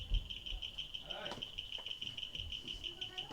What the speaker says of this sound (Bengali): জঙ্গল থেকে নানা পোকামাকড়ের শব্দ ও ঝিঝি পোকার ডাক।